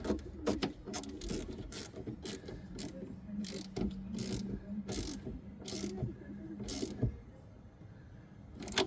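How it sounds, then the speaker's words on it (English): A 10mm ratchet tightens the negative and positive battery terminals on a BMW X6 during a battery replacement, giving close, repeated rapid clicking in bursts with short pauses between them. "using our 10mm, we're going to tighten both the negative and the positive"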